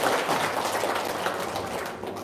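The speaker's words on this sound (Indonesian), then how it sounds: "Tepuk tangan dong, luar biasa." An audience at a personal finance seminar claps together for a couple of seconds, a dense, moderately loud patter that slowly thins out toward the end.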